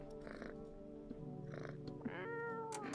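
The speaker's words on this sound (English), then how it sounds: "Pet the cat." A pet cat in the horror video game No I'm Not a Human gives a series of about four clear, drawn-out meows, close and prominent, the last rising into a longer plaintive cry.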